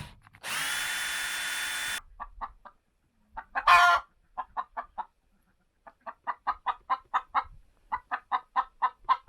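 A hen clucks in a run of short, rhythmic calls after laying an egg in a backyard croft flock, the clucks growing steadily louder and quicker, preceded by a steady mechanical whine and a brief burst of noise.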